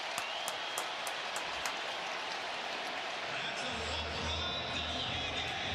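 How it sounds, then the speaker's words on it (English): A football stadium crowd roars in a steady, broad wash of cheering and applause during a Lions–Browns game, with a few sharp claps early on and a low rumble building toward the end. "Crowd is getting into it."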